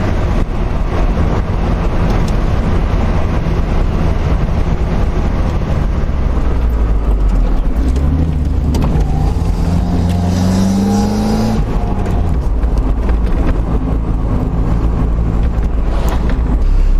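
A Mazda Miata with its top down drives through Hurricane Florence wind and rain, giving a loud, unbroken roar of wind and road noise with engine tones rising and falling midway.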